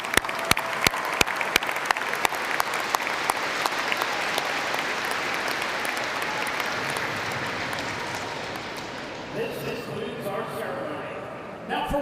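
Sustained applause from a large audience at Eastern Kentucky University's spring commencement, dense steady clapping with a few sharp nearby claps, thinning toward the end as voices emerge underneath.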